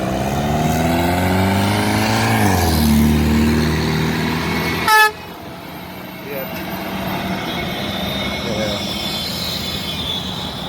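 A truck air horn sounds once in a short, loud, bright blast about halfway through, over steady roadside traffic and engine rumble, with wind-buffeted noise before and after.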